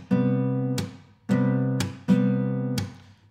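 Acoustic guitar playing the picking and strumming pattern for a song: sustained ringing chords, each cut off by a sharp strum accent, repeated three times in a steady, close, solo rhythm.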